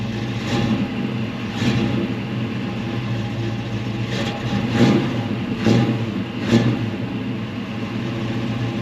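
A 1964 Chevelle engine idling roughly with several short throttle blips: a loud, uneven, rumbling exhaust that surges and falls back.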